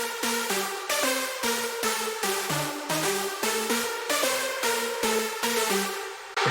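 An EQ'd, balanced hardstyle background synth lead plays a quick repeating riff of bright, gritty stabs over a bouncing bass line, steady and continuous without any talking.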